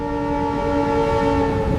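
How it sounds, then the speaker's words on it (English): A train roars past continuously and loudly, its sustained tonal hum holding through the whole stretch. "It was a bullet train."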